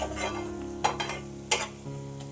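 Onion and garlic sautéing in a pan, a soft sizzle under a few quick spatula scrapes and taps, close and fairly quiet, with no talking.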